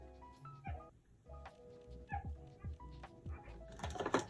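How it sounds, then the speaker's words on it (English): Dogs indoors yelping and whimpering in a series of short, high, sharp cries with brief pauses, fairly faint, with some rustling toward the end. "Sorry for the dogs again."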